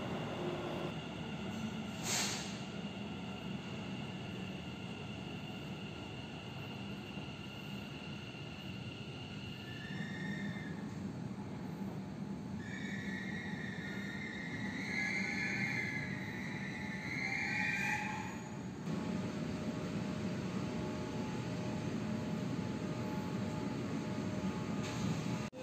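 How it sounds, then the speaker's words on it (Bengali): A Kolkata East West Metro train rolls into the station at a steady, moderate level, a rising rumble with high wheel squeals and whines before it settles. "আর এখন ট্রেন আসছে"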